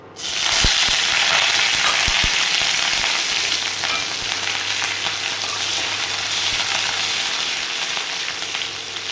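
Mustard seeds popping and spluttering in hot oil while tempering for a cabbage and carrot thoran, a loud steady sizzle with sharp crackling pops throughout, no talking.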